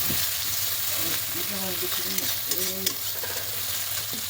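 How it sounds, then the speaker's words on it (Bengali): Spice masala being stir-fried in a pan sizzles steadily while a utensil scrapes and stirs through it in short strokes; brief faint vocal sounds appear in the middle. "তো দেখো বন্ধুরা, মশলা কিন্তু কষাচ্ছি।"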